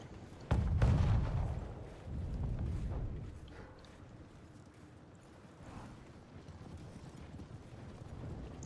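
Artillery fire in a real-time strategy game: a sharp heavy boom opens, followed by rumbling blasts and lingering low battle noise, mid-distance and moderately loud.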